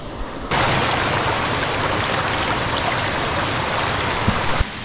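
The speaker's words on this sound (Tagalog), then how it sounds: "Uy, ilog na." Steady broadband rush of a river stream flowing along a bushcraft trail near a waterfall, loud and close, starting abruptly and holding an even churning wash throughout with no talk.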